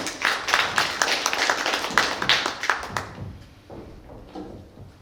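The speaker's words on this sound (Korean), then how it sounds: "여러분 응원의 박수 부탁드리겠습니다." An audience at a youth presentation event claps in a burst of dense applause for about three seconds, then the clapping quickly dies away.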